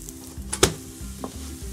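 Milk paratha fries in a pan, giving a soft, steady sizzle under a low hum, with one sharp click partway through.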